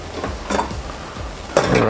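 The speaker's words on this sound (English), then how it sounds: "so let's saute the vegetables" Vegetables sauté in a pan for a healthy breakfast, a loud close sizzle with a utensil stirring and scraping through them.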